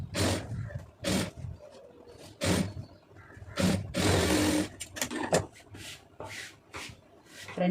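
A sewing machine stitches a lined blouse at the shoulder seam, running in short irregular bursts with pauses between, close and fairly loud, with brief rubbing of fabric in the gaps.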